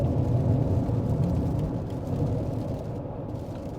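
Heavy rain pounds a car driving on a highway between Texas and Florida, a dense, loud, continuous roar of water and road noise with no talking.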